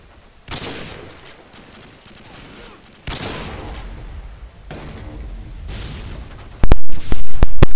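Grenade blast and gunfire in Call of Duty: Modern Warfare 2, loud booming explosions in separate bursts, then a sharp burst of rapid gunshots near the end, close and heavy.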